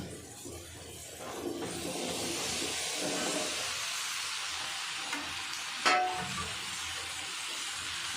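Bottle gourd and potato frying with spices in a pan for a prawn curry, a continuous soft sizzle and hiss with occasional stirring and one sharp clink, close up.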